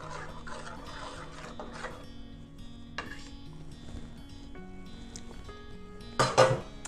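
Blended tomato soup is stirred in a pan, giving a soft continuous scraping and faint clinking under a low background hum, close by, ending with a brief louder clatter.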